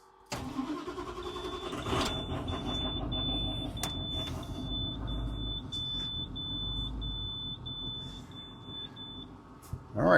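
A large motorhome bus pulls ahead on the road, its engine a steady mid-pitched rumble that holds for several seconds, with a thin high alarm-like beep running beneath it.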